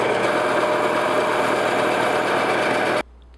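Bandsaw slicing through a foam spike, a steady, loud, close whirring drone that holds for about three seconds and then cuts off abruptly.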